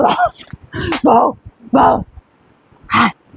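A person imitates a dog barking with a series of short voiced bursts, about five separate yelps spaced unevenly, close and loud, as part of a classroom punishment game.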